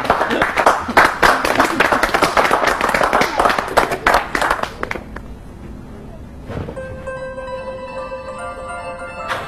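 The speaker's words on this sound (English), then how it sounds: "I think we should all give Simon a round of applause off the trading floor" A round of applause on an office trading floor, dense clapping for about five seconds, then dying away to scattered claps and a steady tonal hum.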